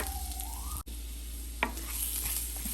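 Finely chopped garlic goes into hot cooking oil and butter for a creamy white-sauce pasta, frying with a quiet, steady sizzle broken by a brief clatter.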